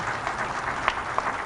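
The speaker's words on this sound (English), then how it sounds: "Can I have a very warm applause for our 6 experts?" Audience applause at an international conference session honoring a panel of six experts, a steady wash of many hands clapping from a hall, moderately loud, with a couple of sharper individual claps standing out.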